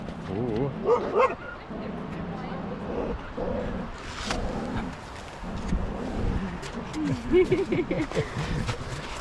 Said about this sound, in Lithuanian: Šuo niršta, blecha, nori pult.